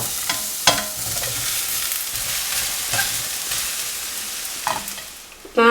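Eggplant stir-fries in a pan with curry leaves and asafoetida, a soft steady sizzle punctuated by a few sharp clanks and scrapes of a spoon against the pan, close with no talking.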